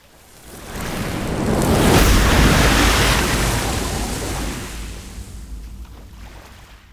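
Ocean surf swells and rushes in a broad noisy wash at the sea splashdown site of a SpaceX Dragon capsule, building to a peak then slowly fading, with wind-like roar.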